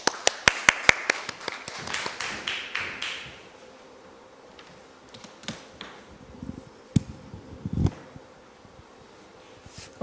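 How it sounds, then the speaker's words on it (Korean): Audience applause welcoming a speaker at a Korean medical tourism forum: a short run of sharp, distinct hand claps for about three seconds that fades out, then a quiet room with scattered faint taps and knocks. "그럼 힘찬 박수와 함께"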